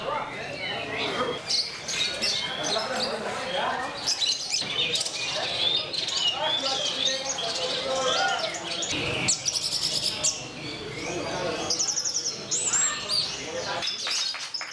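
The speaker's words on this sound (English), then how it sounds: "The evaluation of the bird's sound is very strict" Songbirds sing at a bird song contest in Yogyakarta, Java, with many chirps and trills overlapping in a dense, continuous chorus, while people talk throughout.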